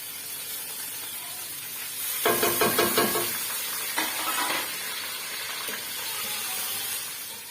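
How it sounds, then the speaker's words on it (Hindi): Garlic ginger paste hits a pan of frying onions with a sudden loud sizzle and hiss, crackling for a few seconds, then settling to a steady fry with stirring. "तो अब हम इसमें लहसुन अदरक का पेस्ट शामिल कर रहे हैं।"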